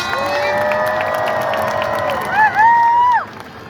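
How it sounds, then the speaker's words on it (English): Crowd at a diving competition cheers and whoops with sustained shouts, rising louder near the end, under a dense roar of voices. "can we give a round of applause to send him into this final dive?"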